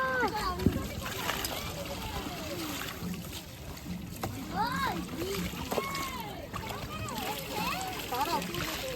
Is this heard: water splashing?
yes